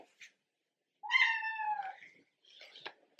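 A pet cat gives a clear, drawn-out meow up close, preceded by a tiny chirp and followed by a softer, rougher meow, in an otherwise quiet room.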